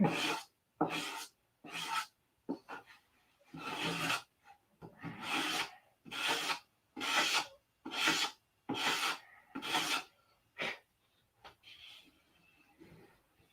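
An 80 grit sanding stick rasps across balsa on a P-47 model, about a dozen rhythmic back-and-forth strokes, close and clear, with brief pauses between them.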